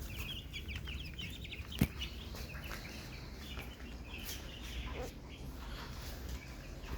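Chickens on a poultry farm cluck softly in the background, with scattered calls over a steady low ambient hum and an occasional louder knock.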